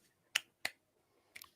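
Three sharp, isolated hand claps in a quiet room, the first two close together and a third after a longer gap, each crisp and brief with no talk around them.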